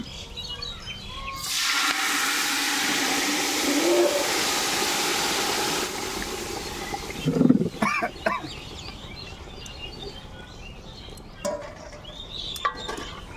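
Meat goes into a pot of hot oil with cinnamon, cloves and cardamom, giving a loud, sustained sizzle that lasts several seconds before dying down into scattered clinks and stirring noises.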